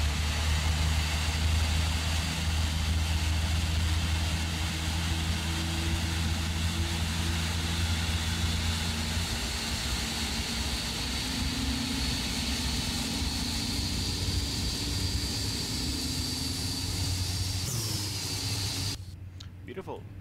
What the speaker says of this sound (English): So we can start our right engine now, or engine number 2. And let's get outside and just listen to it and mostly spool up.